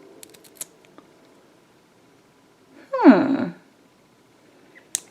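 Scissors cut open a squishy mesh slime ball with a gumball-like solid interior, giving one close, crunchy snip-and-squelch lasting about half a second, with faint handling clicks before and after.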